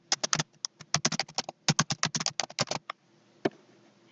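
Rapid clicking keystrokes on a computer keyboard in a quiet room, delivered in two quick bursts of typing followed by a pause and a single final key press.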